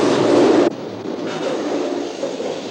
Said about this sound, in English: a land that seems tailor-made for high-speed trains